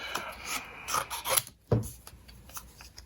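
Scissors trimming a folded paper card for a graduation pocket card, heard as close, crisp rasping cuts in short bursts with brief pauses between them.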